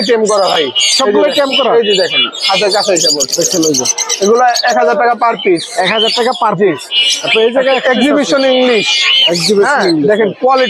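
Many lovebirds squawk and chirp at once at a crowded bird market in Mirpur 1, Dhaka, a dense, loud, continuous chorus of shrill calls with possible talk mixed in.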